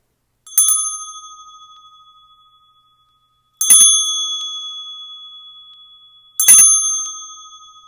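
A small, clear bell is struck three times, a few seconds apart. Each strike is bright and loud, then its pure ringing tone fades slowly into silence, with no other sounds between.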